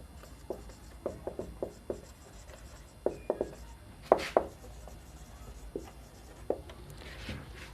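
A pen writes by hand on paper, with a series of short, quiet scratching strokes in an irregular rhythm, close and otherwise quiet.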